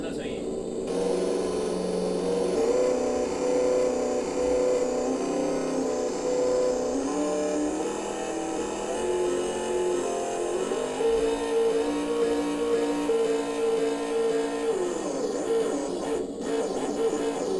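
Electronic engine sound simulator in a modified Kyosho Alpine GT4 RC car, imitating a four-cylinder engine with a steady droning hum that shifts pitch as it revs up and down, alone without talk.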